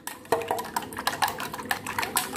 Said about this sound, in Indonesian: Kalian kocok seperti ini sampai benar-benar rata ya